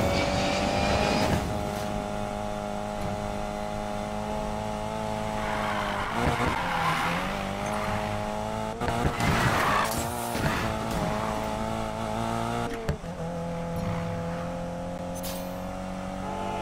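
Race car engines in Need for Speed: Payback rev hard with sustained droning tones that rise and fall through gear shifts, punctuated by brief tire squeals and skids, loud and close throughout.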